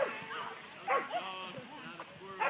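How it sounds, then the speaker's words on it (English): Dogs at a busy public dog park, including small high-energy bulldogs, bark and yip in short scattered bursts at close to moderate range, with people talking in the background. "Lots of activity going on here. Dogs everywhere."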